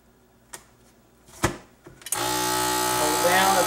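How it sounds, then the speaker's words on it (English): Vacuum sealer sealing a bag of processed deer meat at home: a few clicks and handling knocks, then a steady close motor hum starting abruptly and holding to the end. "you got to make sure it's good and flat all the way across the sealer."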